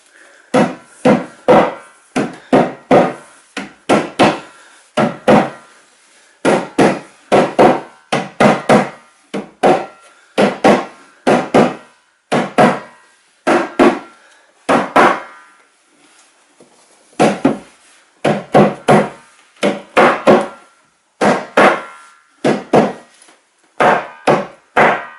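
Repeated knocking and tapping on wooden fittings while a wooden media unit is assembled in a games room, loud and close: sharp taps in quick clusters of two to four, separated by short pauses.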